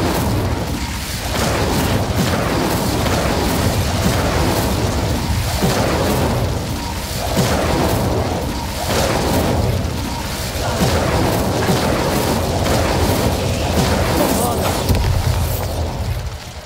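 Booming spell explosions from Hogwarts Legacy gameplay, a dense, continuous run of loud blasts and rumbling impacts with little pause, layered under a busy game soundscape.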